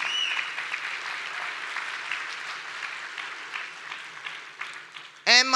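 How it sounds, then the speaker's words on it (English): Applause from an audience at an Amway business event, a dense wash of clapping that holds steady for several seconds before a voice breaks in at the end. "Deserve applause?"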